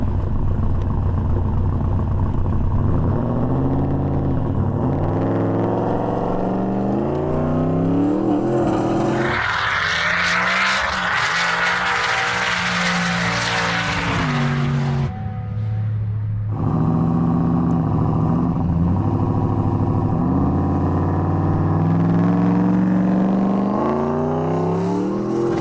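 A built V8 muscle car with a huge Garrett turbo, making 1,050 horsepower, roars loud and steady at an airport drag event, rising sharply into a screaming full-throttle burst midway before settling back to a heavy rumble.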